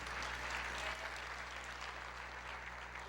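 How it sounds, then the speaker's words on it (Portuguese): A church congregation applauds, producing a soft, continuous wash of clapping that sounds distant and faint over a low background hum. "Você pode aplaudir o Senhor"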